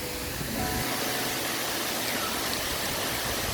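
Khun Korn waterfall in Chiang Rai, Thailand: a dense, constant roar of falling water, loud and close, with no breaks and no voices.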